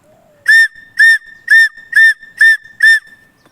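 Six short, shrill whistle blasts sound in an even rhythm, close and loud, imitating a female partridge's call against near silence.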